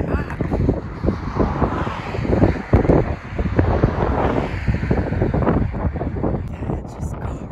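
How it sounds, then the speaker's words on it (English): Strong wind gusting high on an exposed rim above a deep gorge carved into flat land near Taos, New Mexico, roaring steadily against the microphone with buffeting surges, while people talk intermittently over it. "It's getting very windy."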